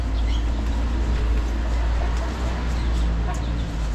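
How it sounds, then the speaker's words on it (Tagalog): A native chicken clucks now and then against a steady low hum and busy outdoor background noise. "native na manok"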